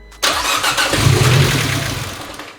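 An Abarth car engine cranks and catches after a jump start, roaring to life at once and settling into a loud, steady run that slowly eases off.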